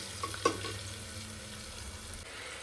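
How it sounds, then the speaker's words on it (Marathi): Ginger garlic paste and tomato fry gently in a pan over a low flame, making a soft, steady sizzle with one brief clink near the start, quiet and without talk. "आपली आलं लसूण पेस्ट आता व्यवस्थित परतून झाली आहे आणि त्याच्यानंतर मी टोमॅटो टाकला आहे."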